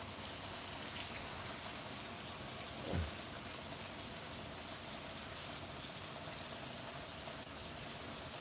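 Heavy pouring rain falling steadily outdoors, a dense even hiss throughout with one brief louder thump partway through.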